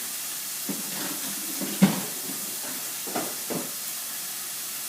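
Onions sautéing in a pot for white chicken chili, a steady soft sizzle and hiss throughout with a few faint scraping stirs and light clinks, no voices.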